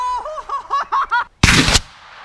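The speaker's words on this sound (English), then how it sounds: "This is rocket knife versus Oobleck." A rocket knife fires and cuts through a blob of oobleck, a loud sudden burst of roaring blast lasting about a third of a second, preceded by a series of short high electronic chirping beeps.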